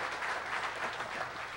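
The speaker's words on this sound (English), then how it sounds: "Big round of applause." A crowd applauding steadily at a skippers' meeting for the Race to Mackinac sailing race, a dense wash of many hands clapping at once, moderately loud and continuous throughout.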